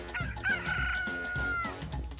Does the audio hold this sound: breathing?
no